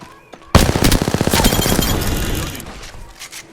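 Rapid automatic gunfire from the video game Apex Legends bursts in loudly after a quiet half second, a dense rattling volley that gradually thins and fades toward the end.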